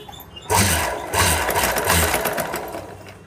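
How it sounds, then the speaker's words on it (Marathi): A sewing machine stitches cut blouse fabric pieces, starting abruptly and running in a loud, close, rapid whirring clatter with a faint pulse, alone with no voices. "तर असे हे दोन आपले भाग असे कट झालेले आहेत तर आता इथं आपण टिपा मारून घ्यायचे"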